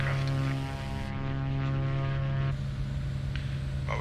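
Propeller drone of a Cirrus SR22 piston single in a flight simulator, cruising at 3,000 feet, a steady loud engine hum with strong low harmonics that carries on without break throughout, with no talk.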